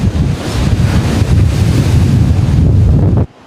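Strong wind roars across the microphone over crashing surf at Coombana Bay, a dense, steady, loud rush of wind and waves that cuts off abruptly near the end.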